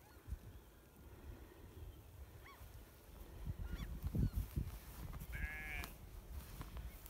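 Sheep bleat a few times outdoors on a calm evening, with faint, scattered calls from a fair distance over soft rustling and low background noise.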